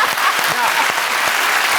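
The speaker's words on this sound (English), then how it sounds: "can we get a round of applause" A studio audience breaks into applause, a brief wash of steady clapping with a voice briefly audible over it.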